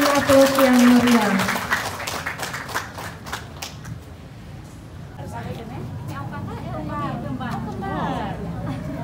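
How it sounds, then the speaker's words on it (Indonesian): An audience breaks into applause at an official launch ceremony for a stunting-care program at a health center, dense clapping that fades over several seconds into hubbub and a speaker's voice. "Mari kita berikan aplaus yang meriah"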